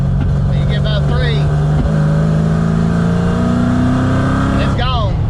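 Loud, close engine of a 331 stroker Fox Body car, droning steadily and then rising in revs as it bucks and jerks, with a voice talking over it.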